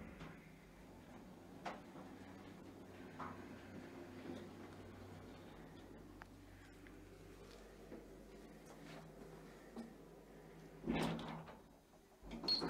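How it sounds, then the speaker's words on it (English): A Stannah passenger lift rises inside a furniture showroom, giving a low, steady motor hum for several seconds, then a brief louder mechanical clunk near the end. "Lift going up."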